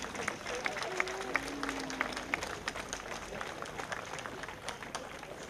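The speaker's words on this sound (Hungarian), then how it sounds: "Megérdemelnek egy tapsot, ne tessenek sajnálni." Crowd applause at an outdoor harvest parade, steady scattered clapping that runs throughout at moderate distance, with voices and a few tonal calls mixed into the background.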